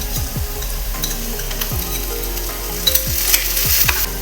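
Prawns fry in a pan with chilli flakes and tomato sauce, giving a steady, dense sizzle with repeated scraping stirs throughout and no voices.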